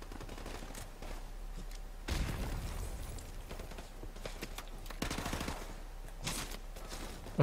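Grenade blast and bursts of gunfire in Call of Duty: Modern Warfare Remastered, a sharp loud explosion early on followed by repeated rattling shots and further heavy impacts across the battle, with no talk.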